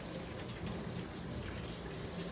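Rain keeps falling outside a house, a soft, continuous patter and hiss heard faintly from indoors, steady throughout without any voices.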